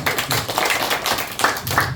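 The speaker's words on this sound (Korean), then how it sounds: "우리 다시 한번 박수를 한번 치었으면 좋겠습니다." A group claps together at a school alumni reunion gathering in Haeundae, producing dense, continuous applause of many hands heard close and loud throughout.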